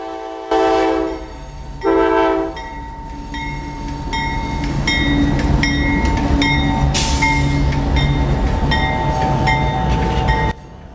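A BNSF/CP freight train, Q453, passes close by, sounding two loud horn blasts at the start, then the rumble and clatter of wheels and cars rolling past with more horn notes, before the noise suddenly drops away.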